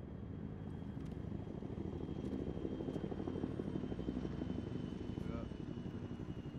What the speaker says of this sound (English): The helicopter's here now